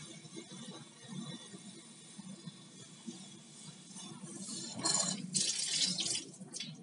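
Water from a tap fed by a newly installed solar submersible pump hisses and gurgles at low volume, sputtering with air before flowing more strongly and splashing toward the end.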